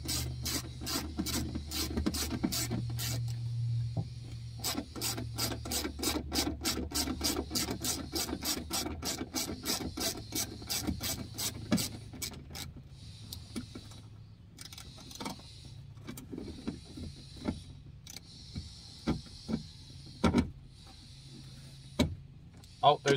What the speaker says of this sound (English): now let's take out this other bolt for the window regulator motor